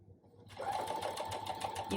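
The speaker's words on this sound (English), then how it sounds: "I'm going to actually sew this on a 1/4 inch seam allowance" A sewing machine stitching a quarter-inch seam on a baby bib starts up after a brief quiet moment and runs as a fast, steady mechanical whir with a rapid ticking rhythm, close and clear.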